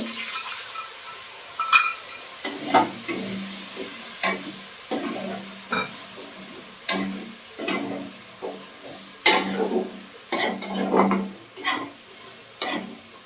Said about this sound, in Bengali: এগুলো দিয়ে খুব ভালো করে কষতে হবে।